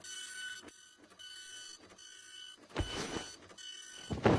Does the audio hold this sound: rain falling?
no